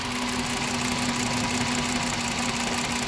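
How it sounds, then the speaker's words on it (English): A 2010 VW Jetta engine idles steadily with a misfiring cylinder, giving a constant close mechanical drone with a faint uneven knock running through it and no talking. "Number 3 stops misfiring because now it's concentrating on the primary on number 4."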